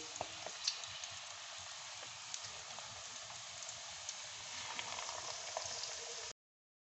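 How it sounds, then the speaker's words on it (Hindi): Keema samosas and rolls fry in a kadai of hot oil, giving a steady, soft crackling sizzle with scattered pops throughout, with no talking. "अब मैं समोसे और रोल फ्राई करने लगी हूँ, कीमे वाले।"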